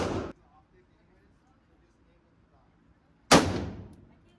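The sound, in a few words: gunshot at a gun range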